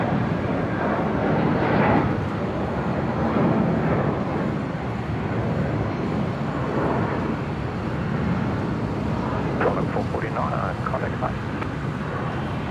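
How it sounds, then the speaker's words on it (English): A Jetstar airliner takes off at Brisbane Airport, a steady broad jet roar that holds at a constant level for the whole stretch, with traffic-like rumble and some wind on the microphone. "can I catch up with this Jetstar that's blasted off?"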